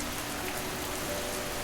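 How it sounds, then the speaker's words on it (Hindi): Heavy rain pouring steadily, a dense continuous hiss of drops on surfaces, loud and even throughout with no other sounds. "तभी इतनी तेज बारिश शुरू हुई कि रास्ता ही दिखाई नहीं दे रहा था।"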